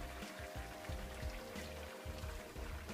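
Milk is poured into a pot for Cajun shrimp and crab bisque. A steady, close liquid splash and trickle runs throughout with small bubbling pulses, and nobody speaks.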